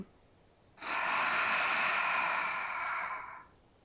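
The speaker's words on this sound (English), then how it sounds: "take a deep breath in and an audible breath out" A deep, audible breath out during a beginner yoga session: one long, soft, airy exhale that begins abruptly, holds steady for nearly three seconds, then fades, close and alone in a quiet room.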